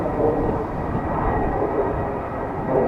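A 17-year-old KLM Airbus A330-200 approaches at Amsterdam Schiphol, giving a steady, broad jet roar that stays loud and even from start to finish.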